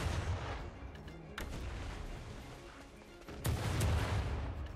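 Cannon blasts from the online game Black Desert Online, heavy booming shots at the start and around three and a half seconds over a dense rumbling battle background, loud and close.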